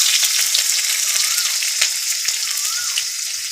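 Onions frying in hot oil give a steady, close sizzle with soft crackles and occasional stirring clatter throughout, with no talking.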